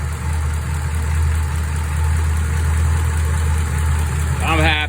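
Flathead-engined coupe with Holley 94 carburetors idling with a steady low rumble and then briefly blipped at the end, close by, with someone talking over it.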